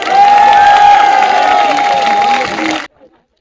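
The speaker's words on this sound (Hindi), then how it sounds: "सबसे पहले चाहूंगा कि आप सब उन सब के लिए तालियां बजाएं।" A crowd at a street protest in Delhi claps and cheers loudly at close range, a long shrill whistle-like tone riding over the noise before everything cuts off abruptly.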